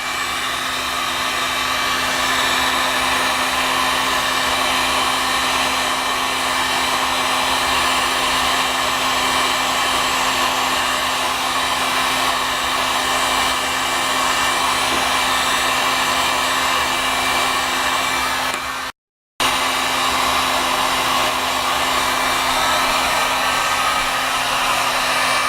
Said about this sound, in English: the function we're testing out is heat shrink tubing in behind the heat gun